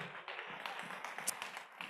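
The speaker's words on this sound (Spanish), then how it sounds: "Dale un fuerte aplauso al Señor" Faint scattered clapping from a church congregation during a Bible teaching session, soft uneven taps with a distant, thin quality.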